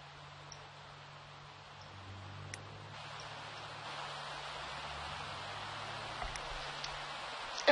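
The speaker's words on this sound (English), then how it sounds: "oh, that rain is loud." Rainfall in the video game The Sims 3 makes a steady, soft hiss that swells slightly and stays even throughout, with no talking.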